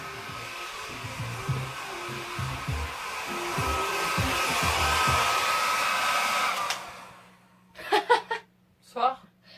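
Hair dryer drying hair somewhere off in the distance: a steady whooshing blow runs for several seconds and then cuts off, leaving a few voices and some chuckling.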